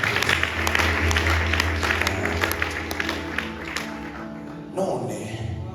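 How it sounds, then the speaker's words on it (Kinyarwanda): A church congregation claps in praise, dense steady applause under a continuous voice, with scattered sharp taps and a shift near the end. "Reka dukomere Imana amashyi."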